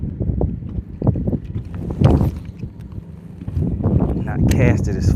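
Wind gusts roar and buffet the microphone outdoors while a fishing line is cast for spring bass, a loud low rumble rising and falling with a voice talking beneath it.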